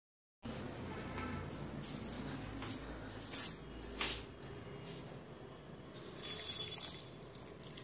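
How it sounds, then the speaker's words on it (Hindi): Water poured onto potted plants at home, a steady soft splashing and trickling stream with a few louder gushes, running continuously for several seconds with no talking. "मैं अपना प्लांट्स में थोड़ा सा पानी दे दूं"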